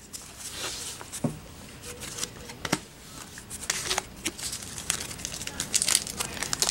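Pokemon Sword and Shield booster pack cards are handled up close, with quick shuffling slaps, crinkling and soft flicks in an irregular stream.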